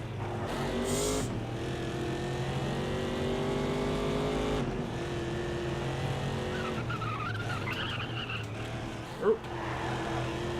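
A race car in the video game GRiD roars under hard acceleration, its engine note climbing through gears, with tire squeal and a sharp bump near the end; engine stays loud and close throughout.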